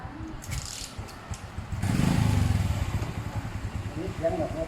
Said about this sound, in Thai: รถเสียงเงียบมากเลยนะครับ เก็บเสียงนะครับนี่ครับ